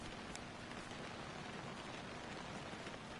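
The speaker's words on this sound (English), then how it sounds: "at least it's raining today" Rainfall in the hunting video game Way of the Hunter, a soft, even patter and hiss of rain on surfaces, faint and unbroken throughout with no voices.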